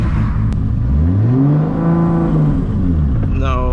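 A Toyota MK4 Supra tuned past 1000 horsepower revs as a learner driver eases the clutch, a loud close engine note that climbs and falls in a smooth arc before faint speech near the end.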